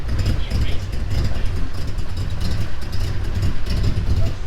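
A 1970s Nissan Skyline race car fitted with a roll cage, its engine idling with a deep, lumpy low rumble, loud and close, with people talking over it.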